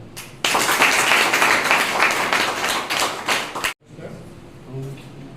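An audience gives a round of applause in honour of a teacher, a loud dense burst of clapping that stops abruptly, followed by faint room sounds and a few murmuring voices.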